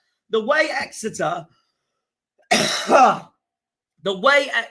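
A single harsh cough or throat-clearing burst sits between stretches of someone talking, close and fairly loud.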